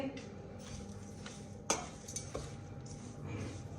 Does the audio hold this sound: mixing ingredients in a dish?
yes